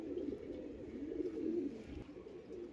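A pair of old-breed pigeons at a city loft giving a soft, continuous low cooing, faint and close, with no talk.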